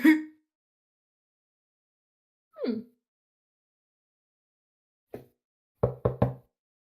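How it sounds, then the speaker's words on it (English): Separate knocks sound on a door: one isolated thud, a pause, then a quick cluster of three firm knocks near the end, with silence in between. "knock on the door"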